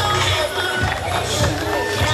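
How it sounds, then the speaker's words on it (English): A crowd at a World Series Wrestling event in Perth, Western Australia, cheering and applauding in a loud, dense roar of hubbub that carries on without pause. "Keep that applause going"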